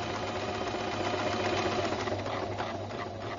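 A sewing machine stitches forward at a steady, even hum with a fine rhythmic chatter, running continuously and close by with no talk.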